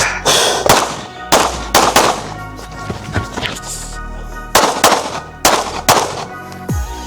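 Sharp pistol shots from a Smith & Wesson M&P Shield with an optic, fired at a 25-yard range, come as loud separate bangs in irregular pairs and bursts with brief ringing gaps between them.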